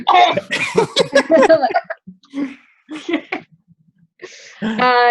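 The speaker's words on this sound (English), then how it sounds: "I'm gonna cough on you." A player at a live tabletop Dungeons & Dragons session coughs amid animated talk, a few short rough bursts close to the microphone between spoken phrases.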